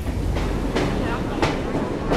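A train rumbling along in Assassin's Creed Syndicate, a steady rolling drone with clickety-clack wheel beats and a few sharp metallic clanks, heard alone and close.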